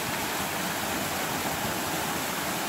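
A stream flows beside an overgrown path among the Custoza vineyards near Valeggio sul Mincio, a steady, even rush of water heard close and alone with no voices.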